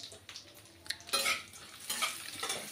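Almonds fry in a spoonful of ghee in a pan, producing soft sizzling with bursts of scraping and stirring against the metal, fairly quiet and up close.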